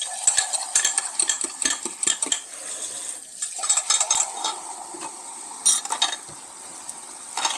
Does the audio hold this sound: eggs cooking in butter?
yes